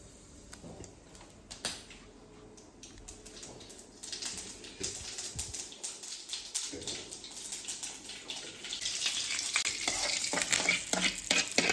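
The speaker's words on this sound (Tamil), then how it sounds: "கடுகு போட்டிருக்கேன் ஒரே ஒரு காஞ்ச மிளகாய் ரெண்டு கருவேப்பில போட்டு தாளித்து கொட்ட வேண்டியது தான்" Mustard seeds, a dried red chilli and curry leaves crackle and sizzle in hot oil for a chutney tempering, the spluttering building steadily louder toward the end amid stirring clicks, with no talk.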